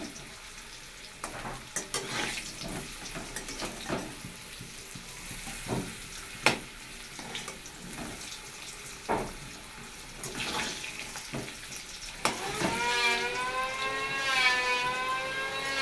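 Salted potatoes fry in a pan with a soft, steady sizzle broken by scattered clinks and scrapes of stirring, and running water from a tap joins near the end.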